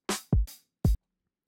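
Simple drum pattern programmed in Serato Studio: three isolated hits, a bright crash-like hit, a deep kick, then another punchy hit, each short and close, with silence between and after.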